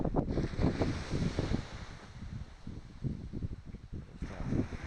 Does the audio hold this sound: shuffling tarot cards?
no